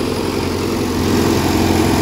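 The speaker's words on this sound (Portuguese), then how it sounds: "É o motor de giro dela, não tem vazamento." A JCB backhoe loader's swing motor runs steadily at close range, a continuous low engine drone with a rough idling texture that holds even and loud throughout, with no voices over it.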